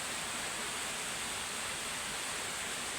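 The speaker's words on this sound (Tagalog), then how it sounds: "Nandun ang falls sa baba." Even, continuous rush of Taginis Falls waterfall in Moalboal, a broad hiss of falling water heard from a distance, faint and unchanging with no other sounds.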